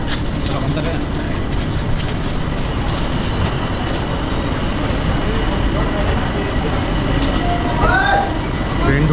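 Passenger train at Rampurhat station, a steady dense rumble of wheels and carriages with faint clatter throughout, loud and continuous, with a couple of brief whistle-like squeals near the end.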